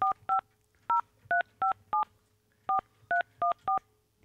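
Telephone keypad tones, ten crisp dialing beeps pressed in an uneven rhythm with a short pause midway, close and clear over a faint low hum.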